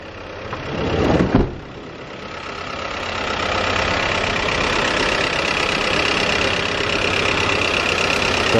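A 2009 Mazda 5 2.0 with no battery runs after a jump start, its engine idling in a steady, loud, close hum; a brief rustling knock comes first, then the idle continues evenly to the end without voices.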